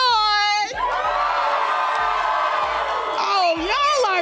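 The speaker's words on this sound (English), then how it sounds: "And can I get the crowd to make some noise?" Audience at a teen poetry slam cheering, whooping and shouting for several seconds after a host's amplified call, loud and close with a roomful of voices.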